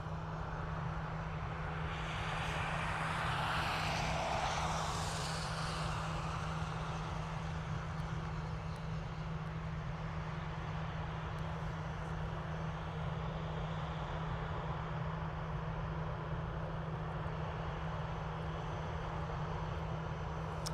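A Ryanair jet taxis at Dublin Airport after rain, its engines a steady low roar and hiss that swells for a few seconds and then settles into a constant distant drone.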